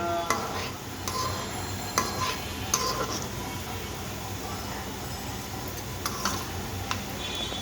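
Puris fry in hot oil with a soft, continuous sizzle, broken by occasional sharp clicks and knocks of a utensil moving them around the pan.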